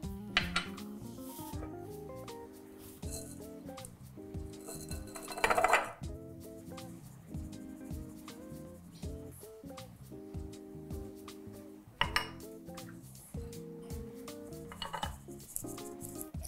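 Flour, baking powder and salt being mixed in a bowl, a utensil scraping and clinking against the sides in an uneven rhythm, close and fairly quiet, with a few sharper knocks and no talk.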